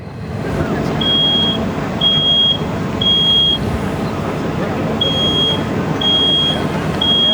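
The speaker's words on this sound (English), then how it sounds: "The smoke detector just went off at 20 seconds." A smoke alarm beeps steadily, about one shrill tone per second, over a loud continuous rumble of background noise, inside a fire company's flashover simulator during a fire demonstration.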